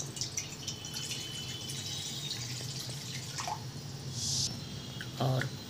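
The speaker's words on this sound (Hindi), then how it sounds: "1 कप पानी डाल देते हैं इसमें।" One cup of water splashes and trickles into a pan for cooking oats, with a few drips, a steady close-up pour that swells near the end.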